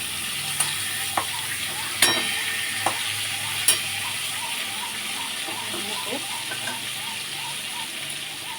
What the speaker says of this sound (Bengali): ফোড়ন দিয়ে দিলাম এবারে এই বেগুনগুলো ফেলে দিই বেগুন দিয়েই করে দেবো